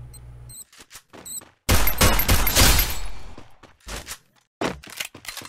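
USP pistol fire in a shooter video game: scattered sharp shots, then a dense loud burst of rapid gunfire and explosive crackle lasting over a second, followed by several more clipped reports.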